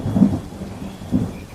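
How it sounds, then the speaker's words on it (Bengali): Thunder rumbles in two low swells through a steady wash of rain during a night storm in a Bangla cartoon, deep and heavy without any voices. "আর খানিকক্ষণ পর পর কালো মেঘের গর্জন"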